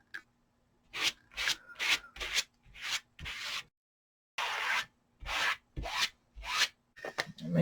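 Repeated scraping strokes as Odicoat coating is rubbed off a hat, about a dozen short rasping passes in an uneven rhythm with brief pauses, close and fairly loud, no talking.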